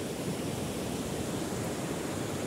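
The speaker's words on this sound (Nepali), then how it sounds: "यही नै हो सुनसरीमा जाने खोला चाहिँ" A river stream near Sunsari in Nepal gives a steady, close rushing roar of flowing water, dense and unbroken throughout.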